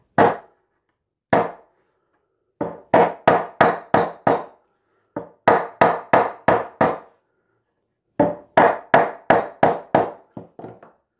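Hammer tapping frets into the neck of a Firebird guitar build, sharp close wooden taps in short bursts of two to six blows separated by pauses, with no talking.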